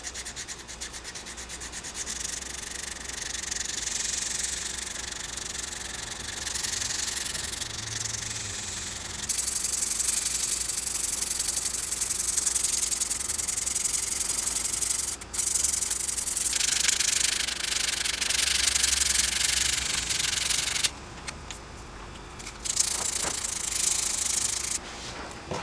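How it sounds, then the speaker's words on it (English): A 2x72 belt grinder sands an integral hidden tang knife, giving a steady, close abrasive rubbing hiss that runs without a break, shifting in pitch and intensity as the blade is moved across the belt. "we don't want to sand in one spot too long. We want to keep it rotating"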